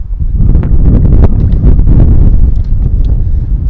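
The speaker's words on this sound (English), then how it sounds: "Wind's picking up" Strong wind buffets the microphone on an open golf course, a loud, steady broadband rumble with gusting swells lasting throughout, with no voices over it.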